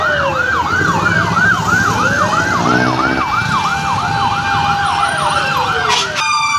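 A loud wailing fire truck siren sweeps up and down steadily, close by, at a fire scene, over a rumble of traffic, with a horn blast near the end.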